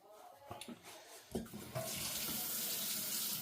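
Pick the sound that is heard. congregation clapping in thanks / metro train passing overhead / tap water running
tap water running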